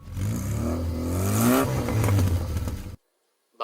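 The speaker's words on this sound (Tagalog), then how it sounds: "motor," A motorcycle engine revs loudly nearby, rising and falling through about three seconds before cutting off abruptly into silence, followed by a brief short burst of sound.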